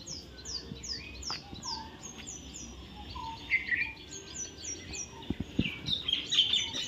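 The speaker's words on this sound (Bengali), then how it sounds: "ওই দেখো চারিদিকে শুধু পাখির ডাক।" Wild birds chirp and sing on all sides outdoors, repeated bright high whistles and twitters close by, with occasional soft rustles and knocks.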